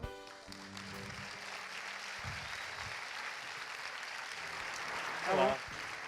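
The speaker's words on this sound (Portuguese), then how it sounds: "Jean-Claude Juncker, para quem eu peço desde já uma salva de palmas." Applause from the audience at a European policy debate in Portugal, as the European Commission president is called to the stage: steady broadband clapping that fills the whole stretch and swells near the end, with some speech underneath.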